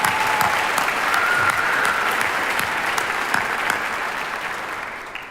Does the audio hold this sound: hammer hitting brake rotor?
no